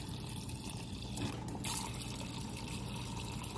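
Water pours from the door dispenser of a Kenmore side-by-side refrigerator in a steady, close filling stream with a brief change in tone partway through.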